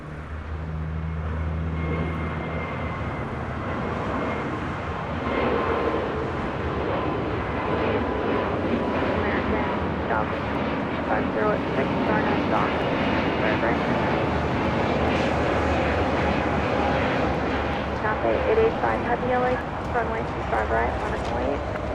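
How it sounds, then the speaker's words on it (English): Korean Air Airbus A380 engines roaring as it rolls for takeoff at LAX, a broad sustained rumble heard from a distance with people talking excitedly over it. "And the Korean Air A380 now rolling."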